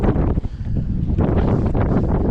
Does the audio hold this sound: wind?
yes